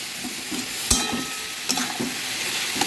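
Tomatoes with sugar are stirred in a frying pan, giving a close, steady sizzle with repeated scraping strokes and a few sharp clinks of the utensil against the pan, and no talking.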